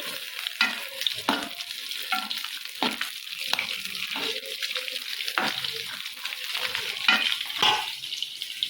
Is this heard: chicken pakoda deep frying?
yes